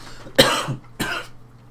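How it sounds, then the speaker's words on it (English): Two short, forceful coughs, a fraction of a second apart, close and clear against a quiet background. "Always have to cough."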